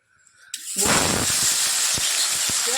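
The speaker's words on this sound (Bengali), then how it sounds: "তো বন্ধুরা তেল গরম হয়ে গেছে, আর মাছগুলো এখন দিয়ে দেবো" Fish dropped into hot oil in a wok bursts into a loud, steady sizzling hiss after a short quiet start, with scattered pops and spatters crackling through it.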